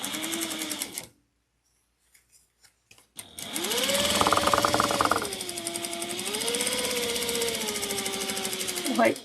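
A sewing machine basting a pocket onto a tote bag runs in a steady, close mechanical whir with a rising and falling hum, after a short burst of stitching and a silent pause.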